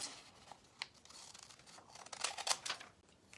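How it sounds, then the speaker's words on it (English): Scissors cut out a paper template, giving several short crisp snips and crunching cuts that cluster and grow louder toward the end, close up and quiet overall. "And then you're going to cut it out."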